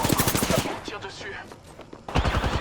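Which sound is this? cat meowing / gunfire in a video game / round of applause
gunfire in a video game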